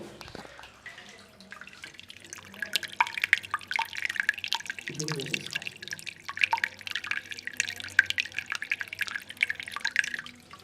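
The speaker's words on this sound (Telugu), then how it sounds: "ఒక్కసారి అభిషేకమైన వాటర్ కూడా కిందికి వెళ్తున్నాయి కదా ఆ వాటర్ సౌండ్ కూడా వినండి ఒక్కసారి" Abhishekam water flows and trickles down at an ancient Shiva temple on the Musi riverbank. Constant dripping and splashing sound up close, with a brief gurgle partway through and no talk.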